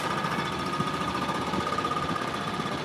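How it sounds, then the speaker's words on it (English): A jackhammer breaking up pavement during nearby road work, a loud continuous rapid hammering that holds steady throughout with no talking. "We're on a line of sight with the jackhammer."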